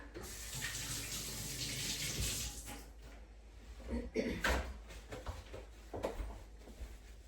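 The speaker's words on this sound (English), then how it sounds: "I'm gonna give my hands a quick rinse and come back" A kitchen tap runs steadily as hands are rinsed after handling barfi ingredients, a close rushing stream that tapers off, followed by soft splashes and a few handling clicks.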